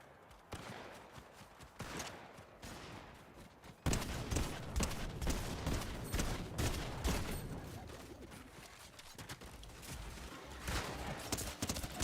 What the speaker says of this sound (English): This is an auto shotgun.